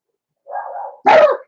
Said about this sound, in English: you don't have to bark every time another dog barks